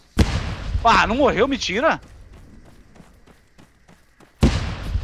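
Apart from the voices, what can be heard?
grenade explosions in the video game Arma 3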